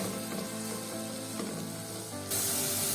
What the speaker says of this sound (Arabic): نشوح البصله كده على خفيف